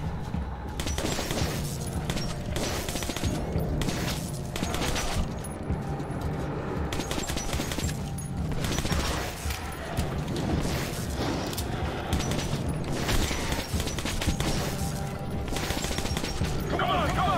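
Military grade incendiary rounds fire in Metro 2033 as a dense, continuous roar of gunfire with muffled rumbling underneath. It keeps a steady loudness for the whole stretch, with no clear breaks between the shots.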